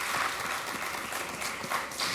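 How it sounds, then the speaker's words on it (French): An audience at a televised district quiz contest gives a short burst of applause, a dense crackle of many hands clapping at moderate volume with no voices over it. "on applaudit bien fort"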